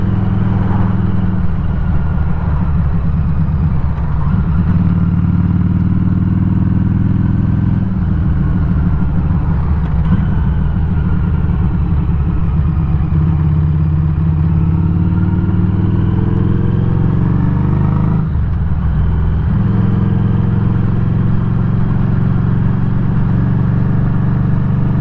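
A Harley motorcycle engine rumbles steadily throughout a ride home, its low throttle note swelling and easing with gear changes, loud and close with no talking.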